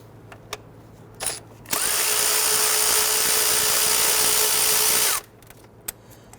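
Power tool buzzing steadily for about three and a half seconds while backing out 10mm bolts from the upper intake plenum of a 2011-2017 Nissan Quest 3.5L V6, loud and close, with brief clicks before and after.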